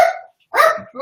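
A dog gives two sharp, close barks about half a second apart, loud and alone, in an otherwise quiet indoor room.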